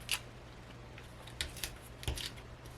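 Several short, crisp snips of scissors trimming a paper sewing pattern for trousers, close and quiet, spaced irregularly over a faint hum.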